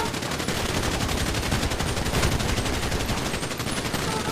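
Rapid, continuous gunfire crackles without pause in a video game roleplay funeral, a dense volley of overlapping shots at steady loudness.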